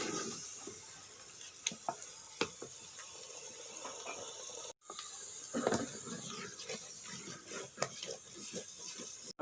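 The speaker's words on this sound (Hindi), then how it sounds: "इसको फ्राई करेंगे मसाले के साथ" Boiled spinach for aloo palak being stirred and fried with spices in a pan: a steady sizzle runs throughout with sharp spoon scrapes and clinks, broken by a brief cut midway.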